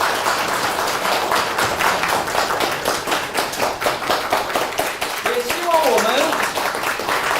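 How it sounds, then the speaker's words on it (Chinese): An audience at Suzhou University of Science and Technology applauds after a lecture, a loud, sustained rhythmic clapping that fills the room, with a voice briefly heard beneath it. "让我们以热烈的掌声对堪布的精彩演讲表示衷心的感谢。"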